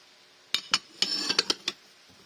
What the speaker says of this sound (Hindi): कांच के ये बर्तन है सारे